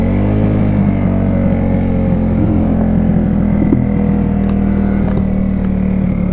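Classic barn-find Honda CB125S motorcycle running steadily up close, a continuous loud engine drone with layered harmonics and small throttle wavers, no talking.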